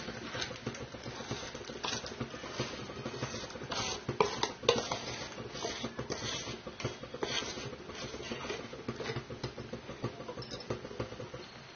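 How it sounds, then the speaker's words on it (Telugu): A gram flour mixture with milk powder is stirred into hot sugar syrup in a pan for milk Mysore pak, giving steady scraping and patting sounds of a spoon against the pan without a break. "ఇప్పుడు దీన్ని కంటిన్యూస్గా కలుపుకుంటూ ఉడికించాలి"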